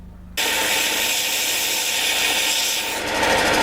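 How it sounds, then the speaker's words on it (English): Woodworking belt sander running slowly grinds a steel knife blade at 120 grit, starting abruptly into a loud, steady abrasive rasp that holds throughout at close range. "This belt sander I've got turns quite slowly, I think, because this is actually designed for woodworking, not for metalwork"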